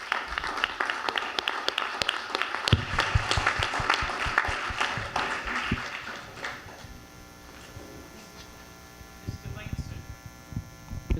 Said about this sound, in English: can we give the audience a round of applause for great questions?